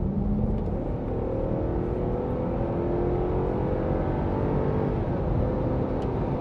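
A Range Rover's 4.4-litre V8 pulls hard under acceleration from inside the cabin, a dense, steady engine roar and road rumble with rising harmonic tones and no talking.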